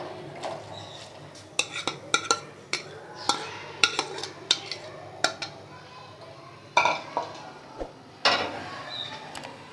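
About 500 grams of onions going into a pot of beef stew and being stirred, with a string of sharp spoon clinks and scrapes against the metal, moderately close, and a brief voice in the background.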